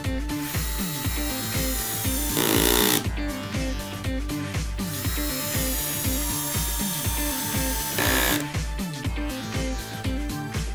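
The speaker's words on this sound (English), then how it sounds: "The difference in screw and torque can also be clearly seen by using the slip clutch on the electric screwdriver." An electric screwdriver drives screws into wood, its slip clutch ratcheting in a steady, rapid clicking pattern, with two brief louder whirring surges as the motor spins up.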